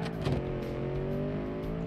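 A 1600-horsepower muscle car accelerating, its engine droning with a steady harmonic tone that rises slightly, loud and close, with no voices.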